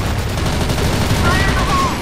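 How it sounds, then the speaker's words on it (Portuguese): Sustained rapid gunfire from a first-person shooting video game, loud and continuous throughout, a dense rattle of automatic weapon fire with no clear pauses. "Largar um cara de tiro aqui, que nem louco, pra ver se mata."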